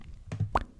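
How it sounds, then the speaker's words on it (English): Two or three soft clicks from adjusting audio settings on a phone, quick and close, standing alone in a quiet room. "Sorry about the clicking."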